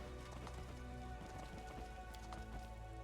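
Steady rain falls in the video game Pathfinder: Wrath of the Righteous, a dense, continuous patter with a soft musical backdrop throughout.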